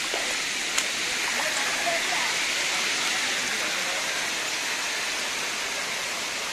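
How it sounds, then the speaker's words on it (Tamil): Water pours down from above at a waterfall, a steady broadband rush heard close and continuous, with a faint voice briefly under the flow. "தண்ணிங்க பாருங்க வலியுது மேல இருந்து."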